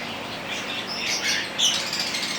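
Pet finches chirp in a home cage, three pairs giving quick, high, bright tweets in scattered short bursts, fairly close but soft, with no voices.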